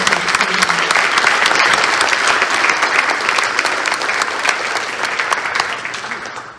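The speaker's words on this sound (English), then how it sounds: "Let's give a round of applause and appreciation." Dense, sustained audience applause fills a hall during the Friday night program of the Missouri Livestock Symposium in Kirksville, holding steady before tapering off at the end.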